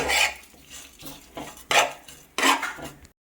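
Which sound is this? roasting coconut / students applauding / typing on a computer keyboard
roasting coconut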